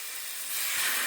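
Bread sizzling as it hits melted butter in a pan over medium heat, a soft, steady hiss that swells slightly louder partway through, with no voices.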